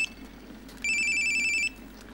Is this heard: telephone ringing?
yes